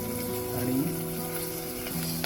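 Peanuts, green chillies, curry leaves, roasted gram and dal sizzle and fry steadily in a pan with asafoetida, a constant close crackle with faint stirring throughout.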